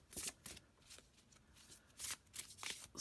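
A tarot card deck is riffle shuffled by hand, giving several quick papery bursts of flicking cards separated by short pauses, soft and close with no talking.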